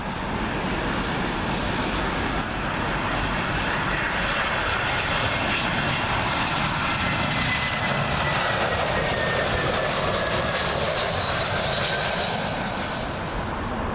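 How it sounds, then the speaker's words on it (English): A British Airways Airbus A320 from Copenhagen comes in to land at Heathrow on 27L, a continuous loud jet rumble with a descending tonal whine sweeping through as it flies over, with no talking. "British Airways A320. Oh, this guy is literally all over the place. He's arriving in from Copenhagen"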